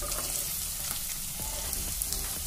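Onion sizzles in oil in a pan, a soft, steady crackling fry heard faintly and close, with no voices.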